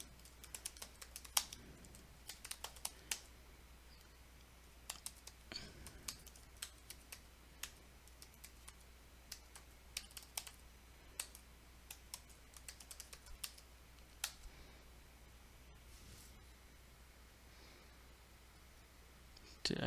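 Docker commands being typed on a computer keyboard during a TryHackMe container challenge: quiet, irregular bursts of key clicks with short pauses, close to the mic over low steady hum, no speech.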